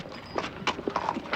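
Horse hooves clip-clop in a few quick, close, distinct strikes on hard ground, moderately loud and without talk.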